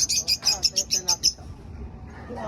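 A bird calls in a quick series of about eight bright chirps, close and clear, then falls silent over quiet background.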